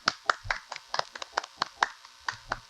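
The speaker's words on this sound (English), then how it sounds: "And Melanie, I want you to join me in an applause for the director" Scattered, uneven hand claps for a director at an interview event, a few sharp individual claps spread across a couple of seconds rather than a full ovation.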